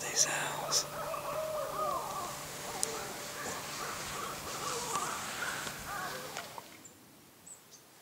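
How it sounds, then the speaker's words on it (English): Owls hoot in the woods at dusk during a hunt in Missouri, faint distant calls over quiet outdoor ambience, with occasional crow-like caws and soft background noise. "listen to these owls."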